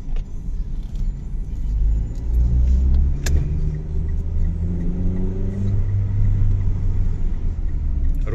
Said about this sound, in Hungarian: Rálépünk a gázra, akkor szépen megy a kocsi.